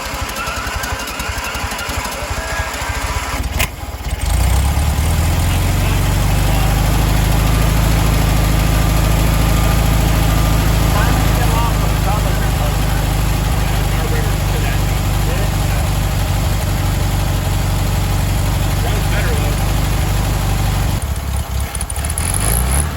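Engine of an old barn-find Volkswagen Beetle catching and settling into a steady, loud idle with a low rumble for most of the stretch, then cutting out near the end; people talk briefly before it starts.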